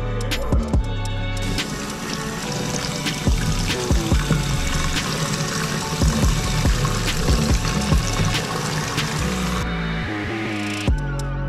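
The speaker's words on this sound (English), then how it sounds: "I just put the water back on." Water runs steadily through a house's reopened supply line, a continuous pouring and splashing rush with small clanks and knocks over it, staying loud throughout before cutting off near the end.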